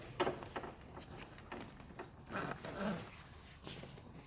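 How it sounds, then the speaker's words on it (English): The zipper on a Daiwa Legacy 3D massage chair's back cushion being pulled open, a series of soft rasping zips and fabric rustles in short bursts, quiet and close. "it has zippers right here. One goes one way, one goes the other way"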